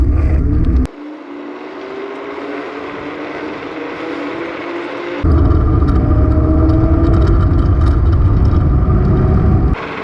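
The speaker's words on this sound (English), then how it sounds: "Ooh, tires spinning on pavement." An electric scooter makes a full-throttle pass on pavement in turbo mode, producing a loud, continuous rush of wind and road roar with a rising motor whine, growing louder midway and cutting out abruptly near the end.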